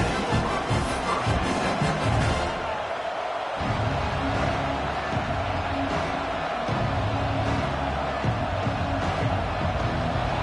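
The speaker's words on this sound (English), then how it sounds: "This crowd ready to make its presence known" A football stadium crowd at a Washington versus Oklahoma game roars steadily, a dense wash of cheering that dips briefly and then swells back to full volume.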